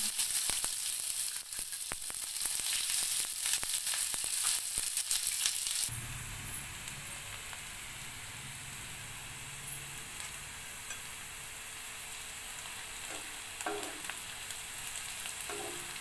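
Sliced onions drop into hot mustard oil in a kadhai, a loud crackling sizzle at first that settles into a steady, quieter frying hiss, close up, with a few light clinks near the end.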